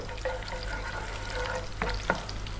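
Curry leaves fry in hot oil over just-above-medium heat, a constant crackling sizzle broken by a couple of sharp spatters and stirring sounds.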